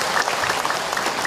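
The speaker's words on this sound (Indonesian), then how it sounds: "Tepuk tangan buat ibu-ibu yang sabar." A crowd claps at an Indonesian talk for patient mothers, brisk dense applause from many hands, close and steady for the whole moment.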